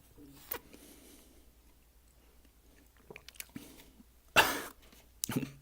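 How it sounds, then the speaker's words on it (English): A single sharp, close cough bursts out after a stretch of quiet mouth and chewing noises, followed by a few smaller throat sounds. "There, it just made me cough."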